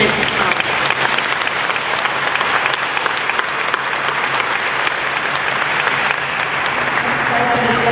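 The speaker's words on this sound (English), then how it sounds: "please join me in a round of applause in recognition of his commitment to college" Sustained, dense audience applause at a college graduate celebration and awards ceremony, steady and fairly loud throughout with no break.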